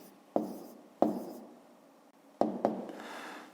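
A pen writes numbers by hand on paper in a few sharp strokes, each a crisp close tap with a short fading scratch, set against quiet room tone.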